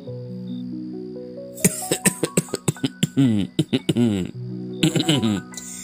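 A person gives a rapid series of soft chest coughs, several sharp bursts in a row, over a quiet sustained musical tone.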